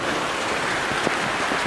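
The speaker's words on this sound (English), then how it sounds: "Even though it's raining, we have to vlog" Rain falls steadily near Malanzai waterfall in Kangpokpi, Manipur, making a dense, even hiss with a few louder drop impacts close to the microphone. No one speaks.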